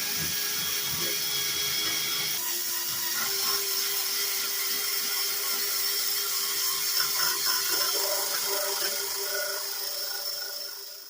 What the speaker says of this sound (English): The red one pretty much matches the red Scotch-Brite pad, so pop that into the drill and let's give that a shot